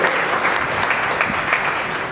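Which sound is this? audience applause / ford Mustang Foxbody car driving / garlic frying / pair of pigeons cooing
audience applause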